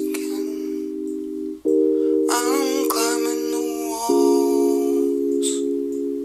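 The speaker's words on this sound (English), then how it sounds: "it had an E piano sound" Electric piano plays sustained chords for a song's build section, a steady held chord that changes a few times while brighter wobbling notes briefly ring over the middle, played alone with no voices.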